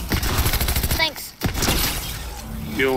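Gunshots in Fortnite: a quick volley of sharp cracks with shattering impacts, a brief lull, then more shots, mixed with game effects and people talking throughout.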